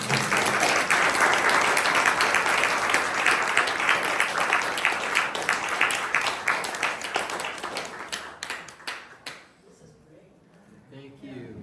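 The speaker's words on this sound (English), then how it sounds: "Big round of applause for Dave Zuckerman." Audience at an Oakland community talk giving a big round of applause, with steady dense clapping that gradually thins into scattered claps and dies away near the end.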